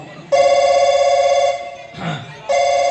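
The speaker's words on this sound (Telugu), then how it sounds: "ఓహో రింగ్ అవుతా ఉందప్ప, ఈ బెడ్రూమ్ ఫోన్ ఇది." A bedroom telephone rings loudly and close by in long electronic tones, two sustained rings split by a short gap, with faint background sound between them.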